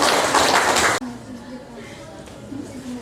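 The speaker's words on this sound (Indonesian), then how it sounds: "Mari kita tepuk tangan." An audience claps after a group presentation in a classroom, a dense burst of applause lasting about a second before it cuts off abruptly, leaving quieter voices and room noise.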